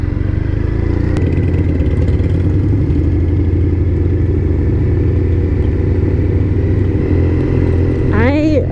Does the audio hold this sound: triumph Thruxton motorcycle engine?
yes